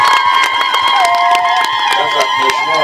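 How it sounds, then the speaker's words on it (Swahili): A large crowd at an outdoor public meeting in Malinyi cheers and claps loudly. Dense shouting and whoops run through the whole stretch, close and continuous. "Naomba tumpigie makofi mengi"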